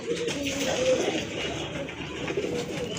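Pigeons coo over a pot in a pigeon loft, a soft steady cooing carrying on for a few seconds amid a dense, busy background of many birds.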